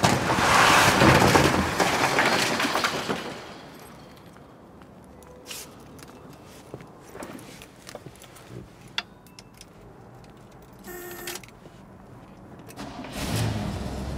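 A 1970 Cadillac DeVille convertible starts up in a garage: a loud, broad roar of cranking and catching fades within a few seconds to a quieter idle, with scattered clunks and a renewed rise near the end.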